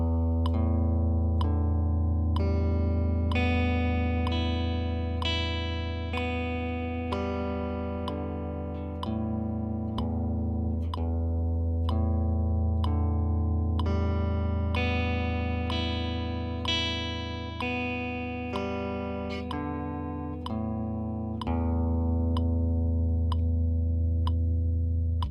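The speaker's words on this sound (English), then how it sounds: "So now we're going to teach you how to do an upstroke," An electric guitar plays steady upstrokes with a pick, sustained chords ringing in even time with a metronome, close and clear with no talking.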